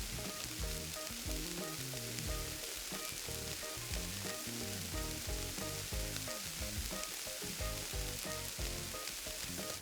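Colcannon cakes fry in hot fat on a Traeger grill, producing a steady dense sizzle with fine crackles that continues evenly throughout, with no voices.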